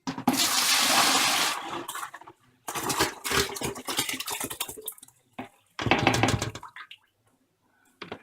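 A mix of lemon, lime and boiled ginger liquid is poured into a bucket in bursts, with loud splashing and gushing separated by short pauses.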